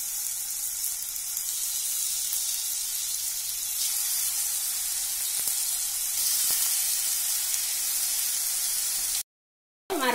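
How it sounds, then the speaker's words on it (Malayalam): Pineapple pieces sizzle in ghee in a hot pan, a continuous hissing fry that holds evenly and then briefly cuts out near the end. "ഇനി നമുക്ക് പൈനാപ്പിൾ ആ പാനിലേക്ക് ഇട്ട്"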